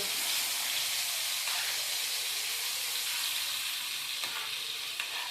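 Onion gravy for chicken fries in oil in a pan, giving a continuous close hissing sizzle at an even level with faint stirring scrapes and no talking.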